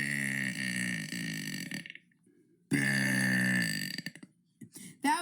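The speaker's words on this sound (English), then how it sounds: "That was day 81 of burping for 100 days." Loud, drawn-out burps, one long belch lasting nearly two seconds, then a pause and a second extended belch, ending with a few short, choppy gulps and a final brief burp, close and alone.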